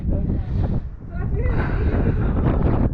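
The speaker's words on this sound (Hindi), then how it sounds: "बहुत हवा चल रहा है ना" Strong wind gusts at Shanti Stupa in Ladakh buffet the microphone with a continuous, loud low roar that rises and falls throughout, while a person talks over it.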